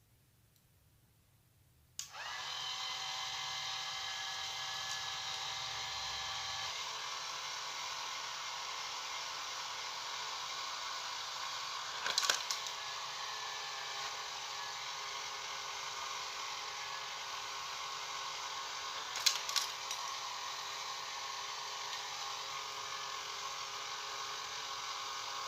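A homemade sunflower seed shelling machine starts abruptly after a moment of quiet and then runs with a steady high whirring drone, with a few brief clicks and rattles as seeds pass through.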